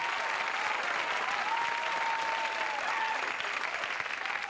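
Studio audience applause on the Let's Make a Deal game show, a loud, steady wall of dense clapping that fills the whole stretch without a break.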